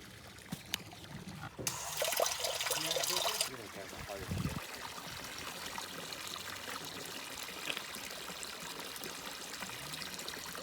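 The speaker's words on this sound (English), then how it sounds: "When we're adding water back into the pond, it's important how we add that water back in." Water from a hose splashes loudly into a garden pond for a couple of seconds before fading into a quieter trickle and background noise, while a person talks.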